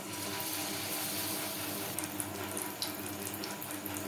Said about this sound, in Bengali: সেটা আমি এইভাবে ব্যাটারে ডুবিয়ে নেব আর তেলে ছেড়ে দেব